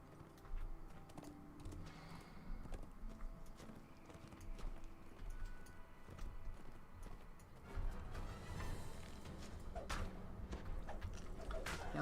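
Horse hooves in a video game, rapid clip-clop steps running under faint game noise and keyboard-like clicks, quiet and steady throughout.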